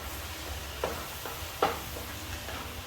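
Bell peppers and other ratatouille vegetables stirred in a stew pot, giving soft scraping and a couple of sharper knocks over a quiet, faintly sizzling background, with no voices.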